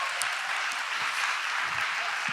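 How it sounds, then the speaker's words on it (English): A story slam audience in Chicago claps and cheers for a performer, a bright, steady burst of many hands applauding at close range that holds at an even level, with faint voices mixed underneath. "Another round of applause."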